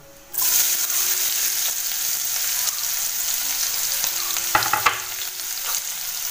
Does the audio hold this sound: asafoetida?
yes